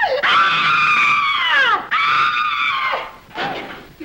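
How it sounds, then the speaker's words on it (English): A person screams in a radio drama about a gorilla: two long, loud, close shrieks that sweep downward, followed by a shorter third cry. "Did I hear somebody scream?"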